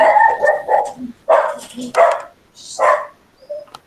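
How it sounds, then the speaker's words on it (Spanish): Several dogs bark in a loud, excited burst of short repeated barks, some with sharp yips, close to the microphone and running through much of the four seconds with brief pauses. "se me enloquecieron los perros"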